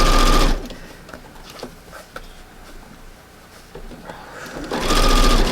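Home sewing machine stitching a hem on porch decor fabric, a fast close whir at the start that slows to a soft ticking patter and then speeds back up to a full whir at the end.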